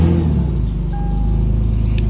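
A jump-started car engine idles low and steady just after starting, a close, continuous low rumble with a brief faint electronic tone partway through; the setting involves an LS-swapped E46 coupe and an Accord.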